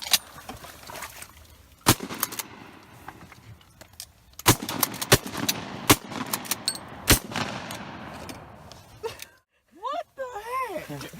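Shotgun blasts ring out during a duck hunt outdoors, several sharp loud reports spaced irregularly over a few seconds, with people talking and calling between shots.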